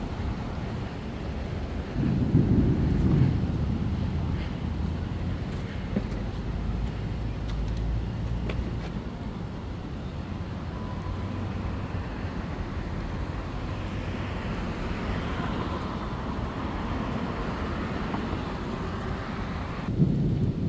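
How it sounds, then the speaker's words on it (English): Steady rain falling on a city street along Central Park West in New York, a broad continuous hiss with low rumbling traffic underneath, fairly close and even throughout, with no talk. "so it started to rain, so let me take my umbrella out"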